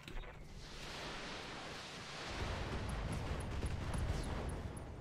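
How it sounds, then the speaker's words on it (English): A mech's ammunition cooks off in the video game Battletech, a loud sustained roaring blast of broadband rumble that swells and holds for several seconds with no voices over it. "Ammo explosions, excellent."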